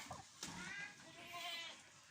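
A purebred Boer goat bleats in a backyard, a quiet wavering cry after a few short knocks and rustles.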